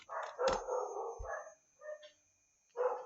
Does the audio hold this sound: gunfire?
no